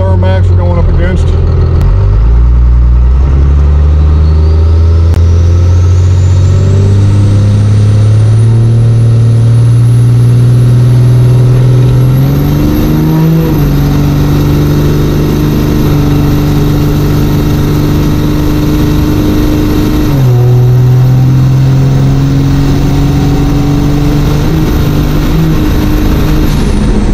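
Duramax diesel pickup trucks drag race down the strip on a hot day, one engine roaring loudly and climbing in pitch through the gears with a rising turbo whistle, sustained close up for the whole run.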